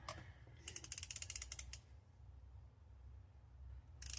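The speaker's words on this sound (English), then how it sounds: "So now we're going to want to torque it down to 14 foot-pounds" A torque wrench ratchets a spark plug tight into the aluminum head of a 2016-2023 Mazda 2.5L Skyactiv-G engine: a quick burst of rapid, quiet clicks, a pause, then a few more clicks at the end.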